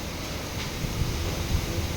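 Strong wind gusting ahead of an approaching rainstorm on a darkening evening, a steady broadband rush with low buffeting and rumbles, heard alone without talk.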